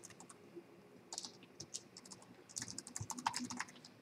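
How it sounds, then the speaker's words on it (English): Someone types a command on a computer keyboard, with quiet, irregular key clicks that speed into a denser run toward the end. "So let me type command composer"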